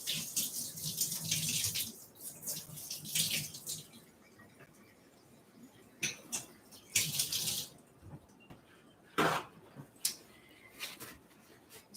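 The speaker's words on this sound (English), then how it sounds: "I'm going to wash my hands really quick." Hands being washed under a running kitchen tap, with splashing water rising and falling in bursts and brief pauses, close and moderately quiet.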